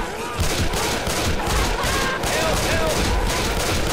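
Gunfire in the video game Left 4 Dead 2 during a Survival round, a steady rapid stream of shots pulsing evenly for the whole stretch, loud and close, with game voices faintly underneath.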